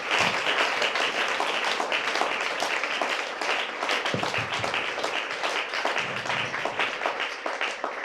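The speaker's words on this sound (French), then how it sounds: "Est-ce qu'on peut acclamer encore pour le Seigneur?" A church congregation applauds for the Lord during a service: dense, sustained clapping from many hands that stays full and even throughout, with no speech over it.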